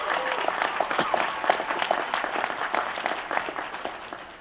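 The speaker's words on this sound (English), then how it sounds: "There's a round of applause for our platform party, please." A graduation audience applauds the platform party, a broad even wash of many hands clapping in a large hall, steady throughout with scattered louder claps near the front.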